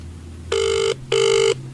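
A telephone rings twice in two bursts of even electronic bell tone, each about half a second long with a short gap between them. The rings are clear and loud over a quiet background, and no one speaks.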